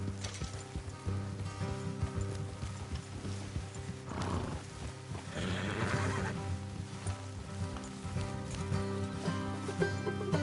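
Horses in the video game Red Dead, with hoof clip-clop and shuffling over a low, steady mechanical hum. The neighing is faint and mixed into the background, and no voices are heard.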